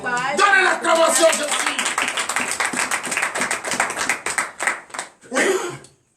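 A church congregation at a morning prayer service in Benin claps and cheers in acclamation, a burst of rhythmic clapping mixed with shouting voices, loud and close, fading out near the end.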